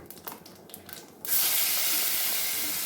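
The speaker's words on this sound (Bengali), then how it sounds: "শুকনো লঙ্কা ফোড়ন দিয়ে নেব আর জিরেগুলো ফোড়ন দিয়ে নেব" After a second of quiet clattering, a sudden loud sizzle erupts as dried red chillies and cumin seeds hit hot oil, then continues as a steady, bright hiss.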